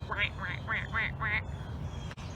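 A duck quacks five times in a quick, even series, then falls silent against a low background hum.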